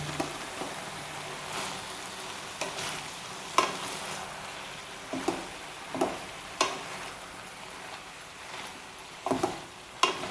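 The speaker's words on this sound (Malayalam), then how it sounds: "ഇത് നമുക്കൊന്ന് ഇളക്കി കൊടുക്കാം" Avial vegetables with turmeric powder being stirred in a pot, a low simmering hiss broken by a series of irregular scraping and clinking stirs, close and moderate in level, no voices.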